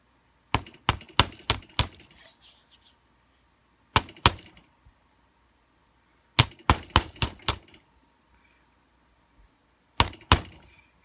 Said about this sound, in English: But the hammering the top like that keeps it from like pulling out so easily